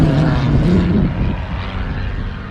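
A Formula Vee race car, the Venom, drives past at a race meeting. A loud, buzzing engine roar fades slightly as the car moves away, with no talking.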